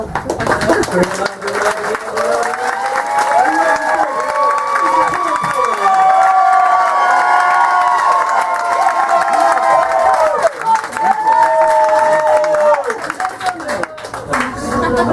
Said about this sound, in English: we needed to start a round of applause